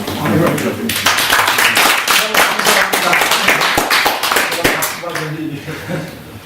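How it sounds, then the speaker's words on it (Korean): Workshop audience in a Korean lecture hall applauding a professor, a loud burst of clapping lasting several seconds with a few distinct sharp claps standing out, fading slightly at the end while a speaker's voice carries under it. "박수 한번 주시고."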